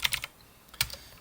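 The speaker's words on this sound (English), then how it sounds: "Then you type tab." Computer keyboard typing in quick bursts, a few sharp clicks at the start and another short cluster near the end, close and fairly quiet.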